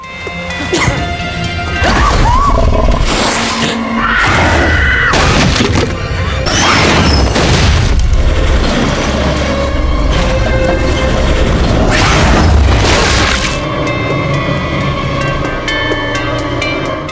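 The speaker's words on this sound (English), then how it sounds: "The high priestess smashed the ladder down onto Elise until she was completely still." A ladder is brought down again and again in heavy, clattering metallic smashes over about seventeen seconds. The blows are loud and close and follow an irregular rhythm, with rattling and ringing between the strikes.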